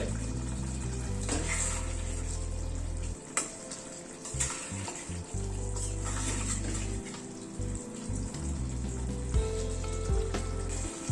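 Pointed gourd curry on a low gas flame sizzling in a pan as the lid comes off, a steady close fry with clinks of metal cookware and a low hum underneath, no talking.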